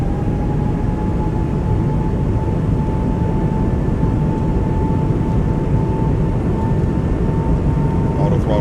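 Airbus A220 jet engines throttled up for takeoff in a flight simulator, a steady, loud engine drone with a sustained whining tone that holds throughout.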